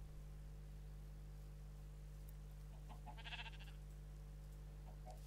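A short burst of sheep bleating in Minecraft pops up briefly over a steady low hum, with a few faint blips around it.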